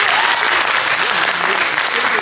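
An audience at a French eloquence contest breaks into dense, steady applause, a loud close wash of many hands clapping at once with no pause.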